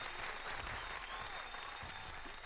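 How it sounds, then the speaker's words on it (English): Faint, continuous applause from an audience at a hip-hop talk event, a soft wash of clapping heard at a distance and fairly even throughout. "Man, round of applause. I like the applause today."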